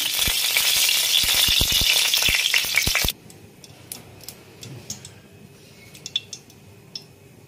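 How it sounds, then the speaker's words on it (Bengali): Mustard oil sizzles loudly in a wok for about three seconds with a dense hiss and sharp crackles, then cuts off abruptly, leaving faint scattered ticks and small clinks in a quiet kitchen. "এবার কড়াইতে সরষের তেল দিয়েছি"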